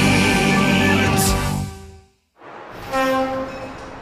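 Diesel Locomotive 95 sounds a loud, sustained, tonal horn on mountain rails. The horn fades to a brief silence, then a second horn blast follows, with rail rumble underneath.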